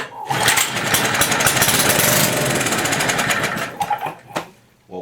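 An old Kohler engine on an antique ME tiller fires and runs with a loud, rapid, close chugging beat for several seconds before sputtering and dropping away.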